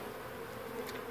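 Honey bees buzz at the hive entrance, a steady, dense droning hum from many insects close by, continuous and fairly faint with no voices over it.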